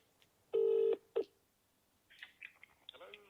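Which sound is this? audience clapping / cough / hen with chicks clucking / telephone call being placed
telephone call being placed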